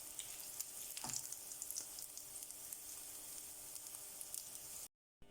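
Steady hiss and crackle of mushroom cutlets frying in oil fills the whole clip, with a brief sharper sizzle near the start and a short cut to silence near the end.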